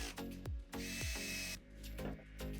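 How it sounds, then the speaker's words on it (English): A power drill pre-drills holes in scrap wood for a spice rack, running in several short, loud bursts that rev up and cut off, with brief pauses between them. "it is just a matter of pre-drilling the holes and attaching it using 1/2 inch wood screws"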